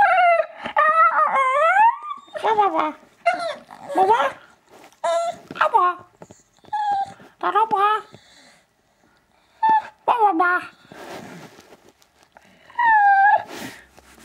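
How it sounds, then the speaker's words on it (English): A Staffordshire bull terrier howls and whimpers in a series of rising, wavering yowls broken by pauses, close and fairly loud, the vocal bursts coming in an uneven rhythm. "Do you want me to introduce you to my dog? She's coming to say hello."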